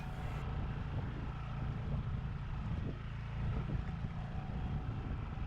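A low, steady engine drone from a sailboat motoring on the Mar Menor in Spain, with wind and water rushing faintly over it.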